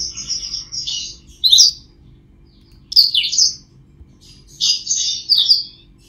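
A female blackthroat in a breeding cage gives short, clear chirping phrases, with three or four bright, separate bursts of song and quiet pauses between them.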